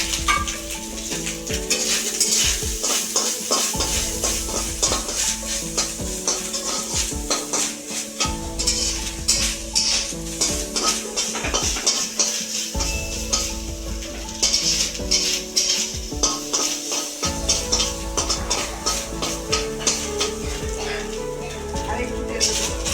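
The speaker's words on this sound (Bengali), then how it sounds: "এবারে নারকেল ভাজা, নারকেলটা দিয়ে দিচ্ছি।" Old grated coconut fries in oil in a pan, a steady sizzle under near-constant stirring with a utensil scraping and clinking against the metal, close and busy throughout.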